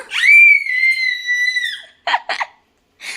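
A voice lets out a long, high, piercing scream that imitates a grandmother crying out during physiotherapy, followed by two short yelps and a brief final cry, loud and close.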